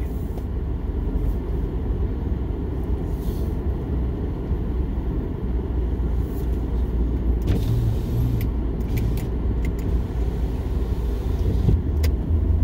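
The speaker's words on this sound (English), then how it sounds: "let's go for a drive" A car drives off through fresh, untouched snow in a driveway on a snowy Alaska morning, giving a loud, steady engine rumble and road noise that runs continuously with no talking.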